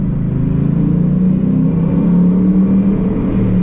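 Loud, deep Ford Mustang GT axle-back exhaust rumbling steadily at close range, a throaty low drone with a slight rising rev.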